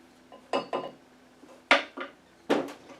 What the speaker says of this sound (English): Now I'm just going to give this a little stir.